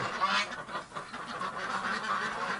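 A flock of ducks quacking and honking close by in a duck barn, overlapping calls filling the reverberant indoor space, no voices.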